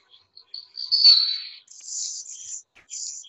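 An Anna's hummingbird gives a thin, high tail-feather dive sonation that swells and fades, followed by several squeaky, scratchy high-pitched chirps in short bursts, close and clear with no voices.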